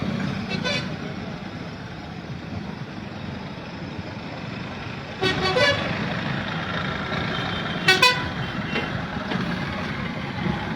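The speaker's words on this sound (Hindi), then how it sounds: "ये देखिए आप तस्वीरों के जरिए ट्रैक्टर, बड़ी संख्या में ट्रैक्टर पहुंचे हुए हैं।" A long line of farmers' tractors in a rally in Bhadra rumbles steadily through a busy street, with occasional horn toots and passing engine surges, heard from the roadside amid general crowd and traffic noise.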